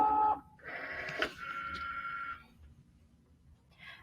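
A Cricut cutting machine loads its mat: a short chime, then a brief whirring motor and rolling mechanism, quiet and close, followed by a faint beep.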